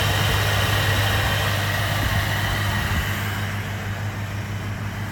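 A 1978 Mercury Cougar XR7's engine idles steadily, with a loud, even low rumble and a constant hum that hold throughout, and no voices.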